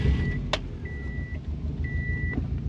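Car engine, a 2007 Jeep Grand Cherokee or 2006 Subaru WRX, idling low and steady after an oil change, with three short electronic beeps and a click over the rumble.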